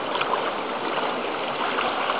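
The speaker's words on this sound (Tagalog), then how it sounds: "Oh, may speedboat pa oh." A speedboat pushes through floodwater in Jeddah, heard as a steady, rushing wash of water and muffled motor that holds an even level throughout, with no voices over it.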